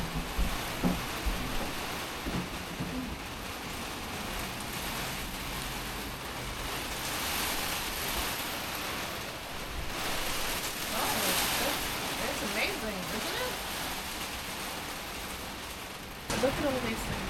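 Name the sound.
heavy rain falling on a greenhouse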